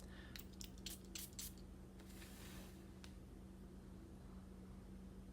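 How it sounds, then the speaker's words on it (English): Several quick hissing sprays from a bottle of YSL La Nuit de L'Homme Eau Électrique perfume, close and fairly soft, followed by quiet room noise. "First spray."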